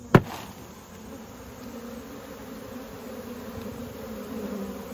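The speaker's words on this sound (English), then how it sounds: "The field bees are flying off." A steady, low buzzing hum of honey bees fills the air after a single sharp knock on a Tupperware container at the start, continuing evenly throughout.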